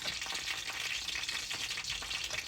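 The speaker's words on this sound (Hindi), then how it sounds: "ये फ्रोज़न समोसे हैं जो कि मैं समोसा चाट के लिए फ्राई कर रही हूँ अभी।" Frozen samosas fry in medium-hot oil for samosa chaat, giving a dense, steady sizzle and bubbling that holds at an even level throughout, with no talking.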